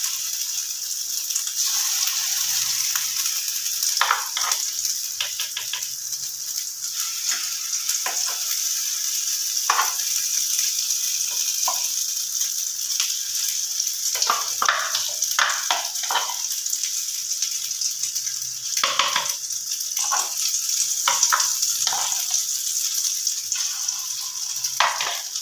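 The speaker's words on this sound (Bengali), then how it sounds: "এবার আমার বাটিতে আরও কিছু ব্যাটার রয়েছে, সেটাও আমি ভেজে নেব।" Potato batter fritters frying in hot oil give a steady, close sizzle throughout, with scattered louder crackles and bursts as pieces are stirred or turned; no voices.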